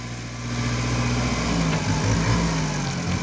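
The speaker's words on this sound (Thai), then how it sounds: "เพิ่งรถไถไปนั่นพี่น้อง" A steady engine drone rumbles throughout, loud and continuous, like a farm tractor moving close by with a low, uneven mechanical hum.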